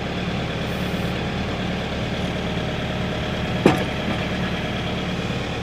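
LS MT242H tractor engine idling steadily with a fitted backhoe, a constant close diesel rumble with a brief sharp click or hiss just past the midpoint.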